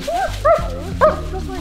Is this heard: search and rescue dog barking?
yes